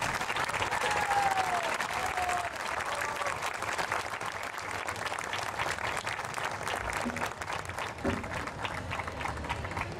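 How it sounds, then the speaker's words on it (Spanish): Steady, dense applause from a concert audience for an orchestra group, many hands clapping continuously for about ten seconds with a faint murmur of voices. "Vamos a dar un fuerte aplauso a ellos."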